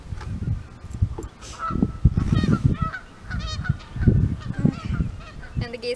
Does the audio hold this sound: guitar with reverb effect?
no